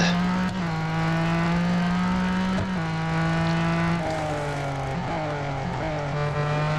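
A 2017 Ford GT engine drones steadily in Real Racing 3, holding a high hum with brief dips and rises as gears shift, with no voices.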